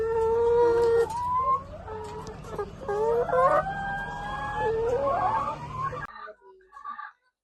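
A small backyard flock of sixteen laying hens in Sidrap clucks and cackles close by, a busy stream of rising, drawn-out calls that overlap for several seconds and then stop suddenly.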